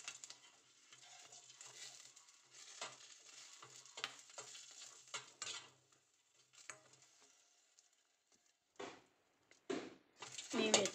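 Green chillies frying in a spoonful of oil for a peanut chutney, a soft intermittent sizzle with scattered crackles and spoon scrapes, growing sparser and ending in a few louder bursts.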